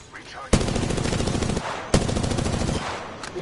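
Automatic weapon fire in the video game Apex Legends: two loud, sustained bursts of rapid shots at close range, each lasting about a second, separated by a brief pause.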